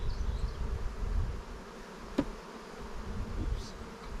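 Honey bees buzz steadily around an open hive frame at an apiary, a soft, continuous drone close to the listener with a brief tap midway, and no one talking.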